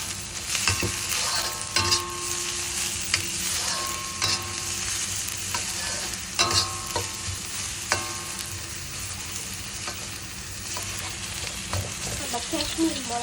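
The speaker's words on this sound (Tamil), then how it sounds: "இது நல்லா வதங்கி வரட்டும்." Potato cutlet filling sautéing with chopped chillies and mushroom in a pan, a steady close sizzle broken by irregular scraping stirs and clinks of the spatula throughout, with no talking.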